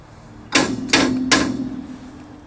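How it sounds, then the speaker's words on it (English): Three sharp metallic hammer blows on the steering spindle of a Chevy Trailblazer during a ball joint install, evenly spaced about half a second apart, each ringing briefly with nothing else around them. "just hit it with a mallet or hammer or whatever you have a couple times right here on the spindle"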